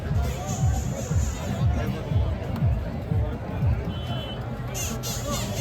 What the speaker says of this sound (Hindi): बाबा का जयकारा हो रहा है